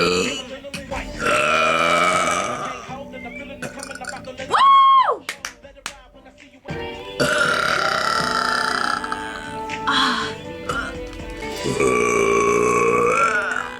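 Long, loud, gravelly burps come one after another during a burping contest, each drawn out and croaking, broken by short bursts of voices reacting in between.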